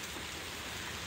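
Steady rain falls on a farm shed where fodder is stacked, a constant broadband hiss with no clear individual drops, moderately quiet and uninterrupted throughout with no voices.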